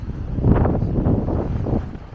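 Steady wind buffeting the microphone on the Caddebostan seaside in Istanbul, a loud low rumble that swells and gusts throughout, with no voices.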